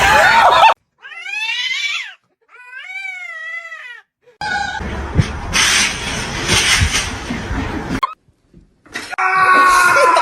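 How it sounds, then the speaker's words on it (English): A cat yowls in a series of loud, drawn-out wavering cries, broken by gaps and bursts of noisy commotion and a voice in the background. "What is wrong with that cat?"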